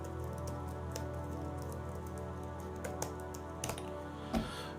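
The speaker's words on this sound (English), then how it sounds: "I'm going to go ahead and type here. See if the mics pick it up." Light tapping on the keyboard of a Samsung Galaxy Tab S9 Ultra, faint soft clicks scattered irregularly over a steady background hum, picked up by the tablet's own microphones.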